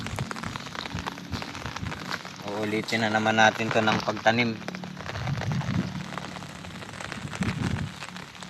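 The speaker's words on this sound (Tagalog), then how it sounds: "sana tumigil na ang ulan" Rain falling steadily on a flooded rice field, a continuous patter heard under someone talking throughout.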